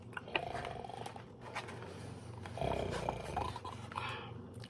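A person imitates a bear snoring while reading a children's story aloud, producing low, rough, growling snore sounds in two drawn-out breaths, with a louder second snore near the end.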